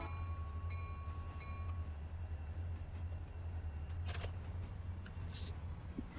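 A train moving through a rail yard, a low steady rumble with a brief metallic screech and faint clanks near the end, fairly quiet and with no talking.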